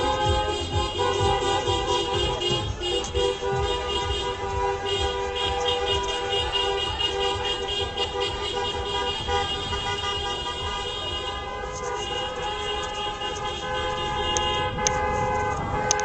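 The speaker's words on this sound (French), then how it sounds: "ces taxis qui sont en train de faire le tour de la place de la République" Taxi horns blaring in a dense, continuous chorus as about thirty cabs circle Place de la République in Paris at night, loud and sustained with overlapping tones throughout.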